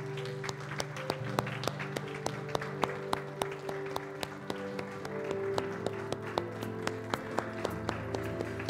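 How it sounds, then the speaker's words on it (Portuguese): Congregation at a revival conference claps along in rhythm, sharp regular hand claps over a sustained musical drone of organ or keyboard chords, moderately loud and steady throughout. "Você pode dar uma salva de palmas para Jesus?"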